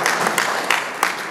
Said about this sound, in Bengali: তার জন্য প্লিজ একটা জোরে করতালি হয়ে যায়।